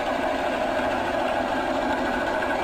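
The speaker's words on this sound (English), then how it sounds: "our twin piston steam engine here, which is turning our 12 kW generator right here" A solar-powered twin piston steam engine turning a 12 kW generator runs with a steady, dense mechanical whir and rapid chuffing rhythm, loud and continuous throughout, with no talk.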